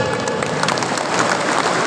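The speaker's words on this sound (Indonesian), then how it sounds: "Tepuk tangan dulu." An audience at a gathering in a sports hall in Perawang breaks into applause. Dense, loud clapping comes from many hands and keeps up without a break.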